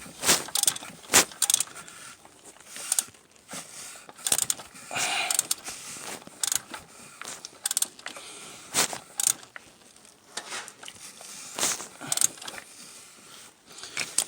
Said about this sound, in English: Start tightening it up.